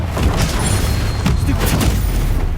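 Confringo fire-blast spell explosions in the video game Hogwarts Legacy, a dense run of booming blasts under a steady roar of combat noise, loud throughout with some speech mixed in.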